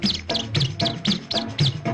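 Small birds chirp in quick repeated bursts, about eight short high tweets spaced evenly through two seconds, fairly close and clear over a low background.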